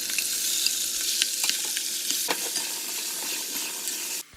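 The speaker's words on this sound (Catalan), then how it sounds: "Posem uns alls en una cassola amb oli ben calent i marcarem la carn per totes bandes." Meat sears with garlic in very hot oil in a casserole pot, filling the clip with a loud, dense, close sizzle and crackle plus a few stirring scrapes, until it cuts off abruptly at the end. No one talks.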